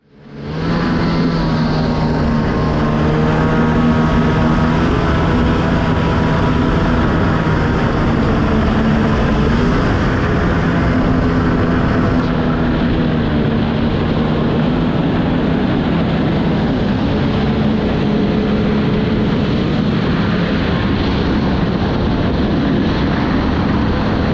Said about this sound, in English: jet boat is just running worse and worse as time goes on out here